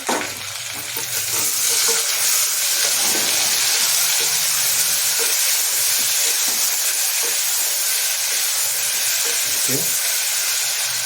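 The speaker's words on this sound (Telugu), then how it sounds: "ఇప్పుడు టమాటా ముక్కలు వేసేసి టమాటా ముక్కలు" Tomato pieces dropped into onions frying in a pan give a steady, close sizzle with faint steamy hiss and occasional stirring scrapes, continuous throughout with no talk.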